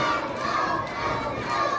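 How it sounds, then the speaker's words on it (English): Dense wrestling-event crowd roars and jeers continuously at a champion, a loud unbroken wall of shouting voices with no clear individual words. "I can't even hear myself think because of this crowd giving Cali hell."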